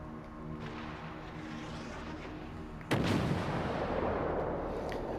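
A warship's guns fire in World of Warships Legends with a T-22 in PvP, where distant muffled shots come first and then a sudden loud close salvo booms and rolls away into a lingering rumble.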